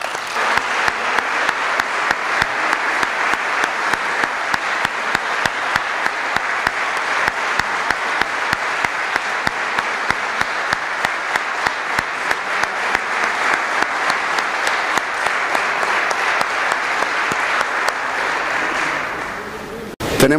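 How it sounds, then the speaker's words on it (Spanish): Sustained, steady applause from a large audience at a tribute event, dense clapping that holds strong for about twenty seconds before ending abruptly. "este aplauso fuerte es para Manolo"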